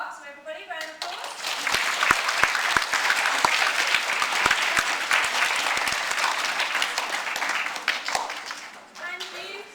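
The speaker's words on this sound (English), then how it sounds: "So everybody, round of applause." Schoolchildren at a winter sports day burst into loud, sustained clapping that swells quickly and fades after several seconds, with young voices cheering over it.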